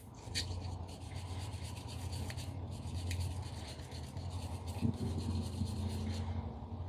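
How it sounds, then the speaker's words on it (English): A brush scrubs surface rust and gunk off an old outboard motor part with carburetor cleaner, making a steady, close, rhythmic rasping rub that continues for several seconds without talk. "even the carburetor cleaner will take that surface rust off pretty good"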